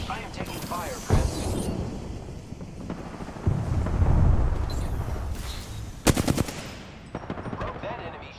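Gunfire in Apex Legends Shadow Royale: loud bursts of automatic weapon fire and sharp shots cut through a busy mix of game effects, with a voice speaking over the action.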